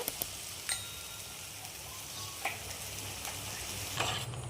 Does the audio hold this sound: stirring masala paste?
yes